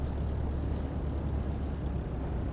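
Airplane taxiing in Microsoft Flight Simulator, a steady low engine and propeller drone that stays constant and fairly loud throughout, with no talk.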